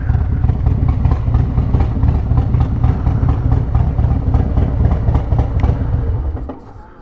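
A Harley-Davidson Road Glide motorcycle engine runs with a steady, loud low rumble close by, then winds down and cuts off near the end.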